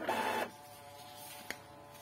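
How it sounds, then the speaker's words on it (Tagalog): An Epson L3150 inkjet printer runs its automatic head cleaning: a short, fairly loud mechanical whir lasts about half a second, then a faint steady hum continues, broken by one small click. "So, nag-head cleaning siya. Automatically, nag-head cleaning na siya."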